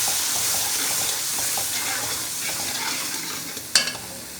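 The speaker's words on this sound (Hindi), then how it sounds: "सारे मसालों को अच्छे तरीके से मिक्स करेंगे" A steady sizzle of spices, including amchur powder, frying in a pan for potato and eggplant sabzi while a spoon stirs and scrapes, ending with a brief clink against the pan's rim.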